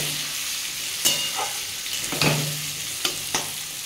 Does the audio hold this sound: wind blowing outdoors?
no